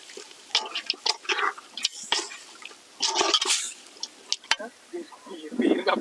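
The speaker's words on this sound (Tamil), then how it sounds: "காடை வேகிறதுக்காக கொஞ்சமாக தண்ணி ஊற்றிக்கிறோம்." Water poured in small amounts into a quail gravy cooking outdoors over a fire, sounding as splashing bursts with bubbling and sizzling, under nearby talk.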